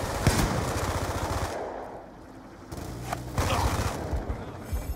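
An automated sentry gun in Call of Duty Black Ops 2 firing rapid bursts, loud clattering gunfire with a lull in the middle before it resumes, mixed with explosions and battle noise.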